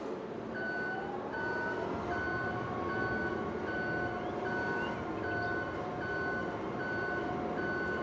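A truck backing up in Farming Simulator 22 gives off a regular stream of sharp reversing beeps, roughly two per second, sitting clearly above a constant low engine drone the whole way through.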